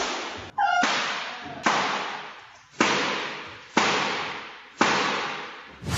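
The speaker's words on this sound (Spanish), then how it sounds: "Segundos después, se escuchan los disparos." Six sharp gunshots ring out in a played recording, each a loud crack followed by a long fading echo, spaced about a second apart in a room.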